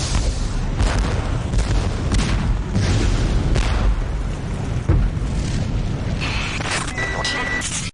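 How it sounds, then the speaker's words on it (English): Massive explosion in a Nuclear Strike PlayStation 1 cinematic rumbles as a sustained, loud series of booming blasts and crackling debris, layered with dramatic scoring and faint tonal effects toward the end. "A massive explosion rocked central Pyongyang just minutes ago."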